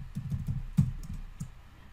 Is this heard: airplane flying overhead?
no